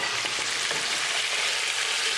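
Beef browning in a hot pan for a mushroom beef stew, giving a steady, close, dense sizzle and crackle with no pauses and no voices.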